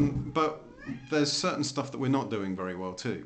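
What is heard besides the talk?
cat meowing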